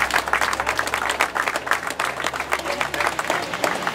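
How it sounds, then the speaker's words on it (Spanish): A crowd applauds steadily at a public works groundbreaking ceremony for La Reforma, with dense, continuous clapping throughout and a voice faintly underneath. "También pido un fuerte aplauso"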